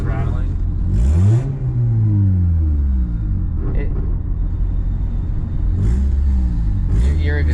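A turbocharged Honda Civic on a first drive, its loose, unattached exhaust rumbling and rattling as the engine revs up and shifts through gears, loud and close inside the car, with people talking over it.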